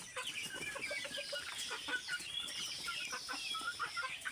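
Country chickens and roosters on a farm clucking and calling close by, a busy overlapping chorus of short clucks and squawks with no talk.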